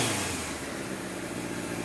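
An old Kawasaki KZ motorcycle engine runs loud and close in a short, steady burst of throttle, a rough continuous mechanical roar.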